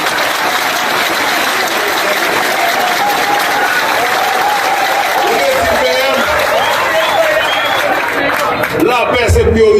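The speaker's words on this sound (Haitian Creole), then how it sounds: "On voit applaudissement pour le" Sustained, loud audience applause from a large crowd at a gathering in Cap-Haïtien, dense clapping running the whole time with crowd noise and voices mixed in.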